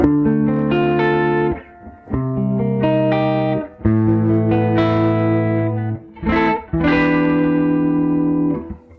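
Electric guitar on the neck humbucker played through a 1968 Fender Princeton Reverb amp, ringing out sustained chords and notes in several phrases with short gaps, full and jazzy with reverb tails, no talking.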